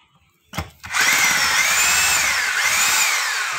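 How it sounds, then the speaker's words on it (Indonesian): A hammer drill whirs up after a brief start and then drills loudly and steadily, its pitch wavering slightly as it runs, close by with no talking. "Ini bor ya."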